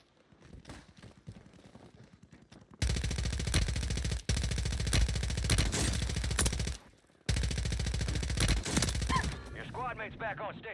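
Sustained automatic gunfire in the video game Warzone 3, two long rapid bursts of loud shots with a brief gap between them, preceded by quieter in-game sounds.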